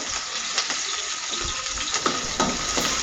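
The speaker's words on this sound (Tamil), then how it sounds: "சின்ன வெங்காயம் வதங்கினதுக்கு அப்புறமா நம்ம வெள்ளைப்பூண்டையும் இஞ்சியும் இதில் போட்டு நல்லா வதக்கிக்கலாம்" Small shallots, garlic and ginger sauté in a pan for thuthuvalai thuvaiyal, giving a steady broadband sizzle with a few soft clinks of stirring scattered across it.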